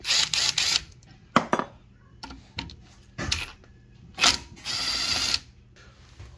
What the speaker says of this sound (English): So we'll start by removing these screws here, the whole caliper assembly, and we'll go from there.